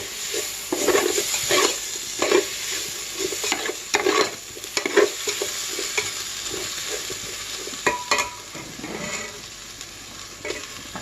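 Rice for meal maker biryani fries and gets stirred in a pan, giving a soft sizzle under repeated scraping stirs of a spoon against the pan, close by and moderately loud.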